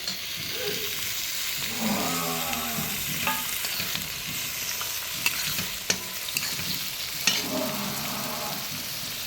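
Tomatoes hit a pan of sautéed onions and fry with a steady sizzle, broken by scraping stirs and occasional sharp clicks of a utensil against the pan; no one talks.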